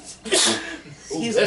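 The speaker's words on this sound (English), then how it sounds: "she's so scary she made her sneeze" A single sharp sneeze from an animated film scene, a quick inhale followed by an abrupt burst, close and loud amid other voices and soundtrack.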